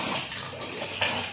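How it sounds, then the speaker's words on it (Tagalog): Water gushes strongly from a tap fed by a drum tank at a clubhouse, a steady close rushing splash that fills the whole short moment without a break. "Malakas yung tubig, oh. Galing to doon sa drum."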